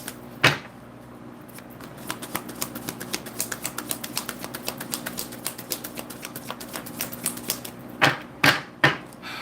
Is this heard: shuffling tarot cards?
yes